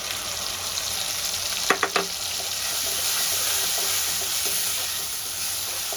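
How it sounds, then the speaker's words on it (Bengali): Soaked ground spice paste of turmeric and chilli powder frying in hot oil after the tempering, with a steady loud sizzle and hiss and a few sharp stirring scrapes near the start, no talking. "মশলাটা আমি ভালো করে কষিয়ে নিই।"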